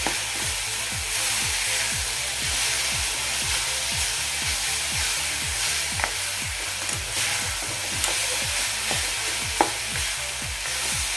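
Rhythmic scraping of a spoon stirring a sticky mixture of melting jaggery and coconut in a pan, with a soft sizzle underneath and occasional small clicks.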